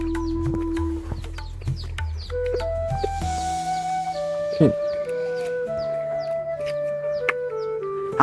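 A chicken with fowl pox clucks repeatedly while an iodine antiseptic is dabbed onto its sores. The short clucks and calls sound close, over a steady background of other tones.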